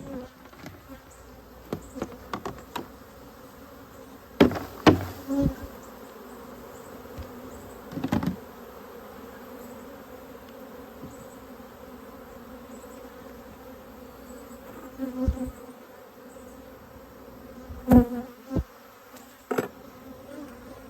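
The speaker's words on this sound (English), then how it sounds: "all the field bees that know how to fly will fly out" Honeybees pour out of mini mating nucs being stocked, a steady insect hum close by with several louder buzzing passes as individual bees fly near.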